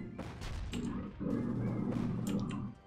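Mortar artillery in the Iron Harvest real-time strategy game fires in a rapid cluster, with several loud booms and thuds overlapping under an excited voice that talks over them.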